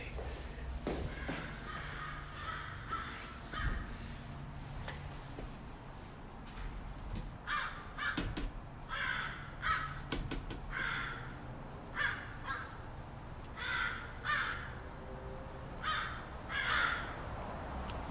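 Crows caw repeatedly in a yard, harsh calls arriving in irregular bursts that grow busier and louder later on, with faint shuffling underneath.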